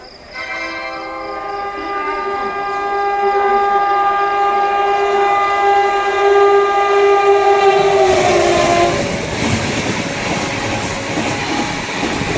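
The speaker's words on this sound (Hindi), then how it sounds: "और इधर से आ रही है कोई ट्रेन।" An express train approaches and passes a signal on the Etawah–Mathura line, its loud sustained horn blaring for several seconds before cutting off into the close roar and rattle of coaches rushing by.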